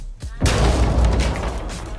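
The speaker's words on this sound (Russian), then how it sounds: "Какого хера все взрывается?" Explosions in Rainbow Six Siege: a heavy boom bursts in after a brief quiet, followed by a loud, rumbling wash of blast noise that lingers and slowly fades.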